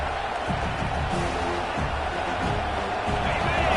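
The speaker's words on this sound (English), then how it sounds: "This crowd bringing the energy and noise early." At a college football game against USC, a stadium crowd sends up a loud, continuous roar of cheering and noise, broad and sustained, with a commentator talking over it.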